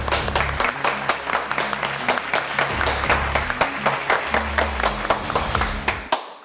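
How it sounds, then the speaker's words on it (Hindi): A crowd at an Eid ul Fitr stage show claps enthusiastically, loud sharp hand claps in an uneven flurry over a low hum, continuing strongly before cutting off abruptly. "सर ये पूरी कौम तालियां बजा रही है आपके लिए।"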